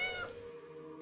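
A single clear cat meow from the video game Alchemist the Potion Monger, fairly close and rising then fading within a second, with nothing else over it.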